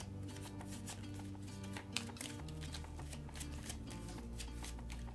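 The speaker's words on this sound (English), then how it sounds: "Oh, I have to shuffle this." A deck of cards from the Dale of Merchants board game is shuffled by hand, giving quiet, rapid riffling and flicking bursts in an irregular rhythm, close and alone.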